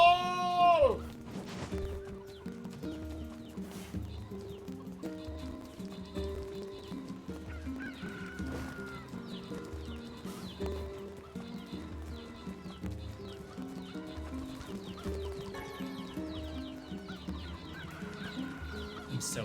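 Chickens cluck in the NieR Replicant video game, their soft, repeated calls mixed under steady in-game music with a few sharp clicks.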